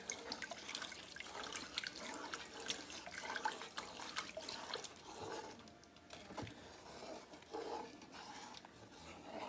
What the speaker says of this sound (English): we're going to pour in this chicken broth